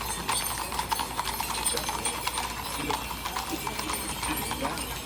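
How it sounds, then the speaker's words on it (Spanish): Many horses' hooves clip-clop steadily on pavement at an equestrian parade, a dense overlapping patter within a busy outdoor crowd hum. "Pues hay bastantes caballos"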